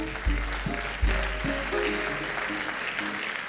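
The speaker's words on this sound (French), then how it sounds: "On peut l'applaudir." An audience applauds a performer being introduced at a theatre season presentation, with a steady patter of clapping that rises and then fades over a few seconds, with low voices underneath.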